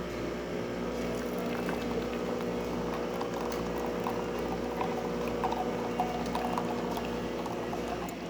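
A Jura Impressa XS90 coffee machine with a new temperature sensor brews steadily, giving an even, close hiss and gurgle of liquid flowing from the spouts with a low pump hum underneath, without pause and without talk.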